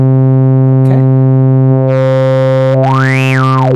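A Eurorack synthesizer tone passes through a notch filter, a loud steady buzzy drone whose harmonics shift and swell as the notch sweeps, ending in a rising then falling whistling sweep.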